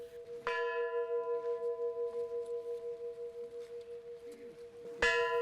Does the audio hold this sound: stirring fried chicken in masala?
no